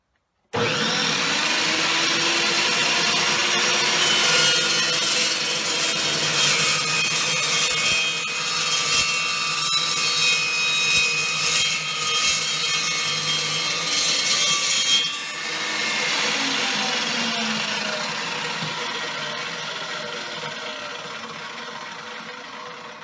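Evolution EVO380 chop saw cutting steel stock clamped in its vise, a loud steady grinding whine running about thirteen seconds before cutting off and spinning down alone.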